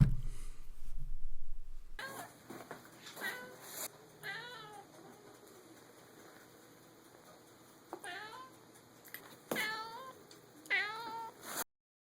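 Cat meowing in a series of close, plaintive calls with rising and falling pitch, several separate meows spaced across the stretch, alone against a quiet background.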